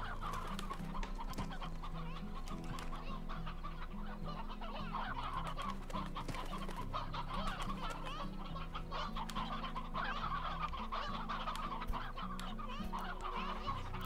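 Farm chickens in the video game Slime Rancher cluck continuously in a busy, overlapping flock, fairly close and moderately loud over a steady low game hum, with no talking.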